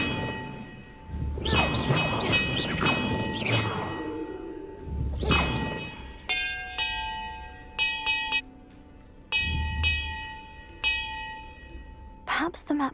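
Bells ring in Hogwarts Legacy, a series of metallic clangs and dings with long ringing tails, some struck in quick clusters and others alone, over faint ambient rumble.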